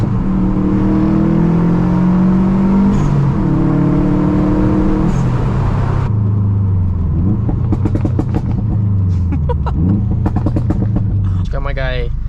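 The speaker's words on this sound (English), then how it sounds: "Dude, my car just started popping like crazy." A Stage 2+ Subaru WRX STI engine idles and revs, then its loud exhaust breaks into rapid bursts of sharp, crackling pops and backfires, loud and close.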